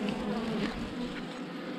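A single bee buzzes close by outdoors, a steady droning hum that stays loud and unbroken throughout with no voices.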